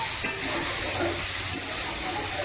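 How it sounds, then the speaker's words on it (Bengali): Paneer cooking in a pan gives a steady, even sizzle and hiss throughout, with a couple of brief sharper clicks or stirs standing out near the start and middle. "আর এখন বানাচ্ছি পনির"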